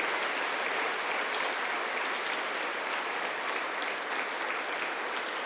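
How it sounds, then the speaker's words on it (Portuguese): A congregation applauds during a church service, dense sustained clapping at an even level for several seconds. "Dá mais um aplauso ao Senhor"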